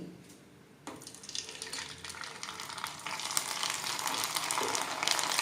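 Small budamkayalu gourds dropped into hot oil, the frying hiss jumping up suddenly and building into a loud, steady crackling sizzle close by.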